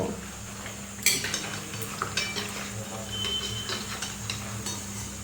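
Nimki pastries frying in hot oil and being lifted out with a metal utensil: a soft steady sizzle under scraping and clinking against the pan, with a sharper clatter early on.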